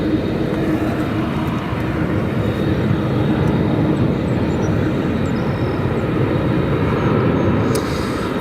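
An airliner at O'Hare turning left into its parking slot, its engines giving off a continuous, even roar and hum at fairly close range, with no voices.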